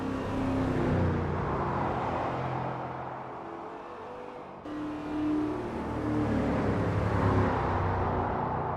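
Crown Victoria Spec P71 sedans racing at Maple Valley in Assetto Corsa: V8 engines drone and rev in layered waves, swelling and dipping as the cars accelerate and pass, with no voices.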